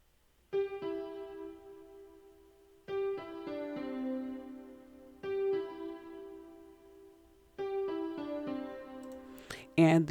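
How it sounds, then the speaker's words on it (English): A short piano melody played in FL Keys for a hip-hop beat sounds in four repeated phrases, each opening with a bright struck note and ringing chords that decay, with no voices. "The next elements that I added to this was just a little piano melody,"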